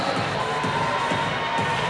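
A large indoor athletics crowd at a national sprint final cheers and claps loudly and steadily as a female runner is introduced, a dense unbroken roar of noise.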